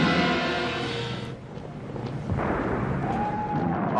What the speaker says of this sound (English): You can hear the bombs falling on the streets and the homes.